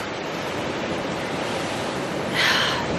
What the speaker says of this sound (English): Just a huge set of waves rolling in right now.